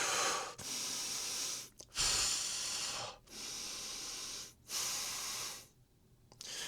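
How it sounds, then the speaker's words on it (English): A woman breathes close to the microphone with long, airy inhales and exhales. Each breath is separated by a brief silent pause, and the breaths sound steady and fairly loud. "I'm so conscious of hearing myself breathe"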